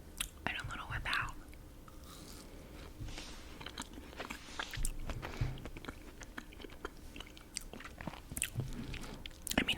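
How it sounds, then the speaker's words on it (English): Someone bites into and chews a Crumbl cookie topped with fruit, close and crunchy, with irregular soft mouth sounds and snaps over quiet whispering in an ASMR setting. "So let's get a bite with the fruit."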